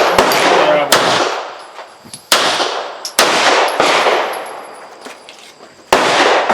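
Smith & Wesson 659 9mm pistol fired outdoors at a range, six loud sharp reports at irregular intervals with metallic clangs and ringing decay between them, voices faintly in the background.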